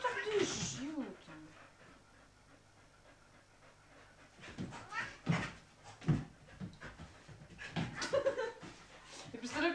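A dog pants heavily and rapidly close by, in a steady run of quick breaths, with someone talking and laughing over it.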